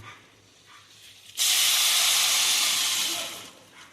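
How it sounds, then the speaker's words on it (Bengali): Water is poured into a hot pot for pulao and bursts into a loud, sudden steam hiss that holds for over a second and a half before slowly easing off, with no talk. "দেখুন, এবারে আমি এই জলটা ঢেলে দিলাম"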